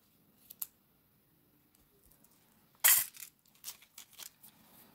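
Small metal snips cutting a jewelry chain for a filigree peacock pendant necklace, a sharp close clip followed by faint tinkling of loose chain links against a quiet background.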